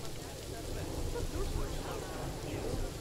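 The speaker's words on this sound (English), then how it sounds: "And it's raining. Look at that rain." Rain falling in the zoo-building video game Planet Zoo, a steady broadband hiss that holds evenly throughout at moderate level, with faint background sounds and no clear talk.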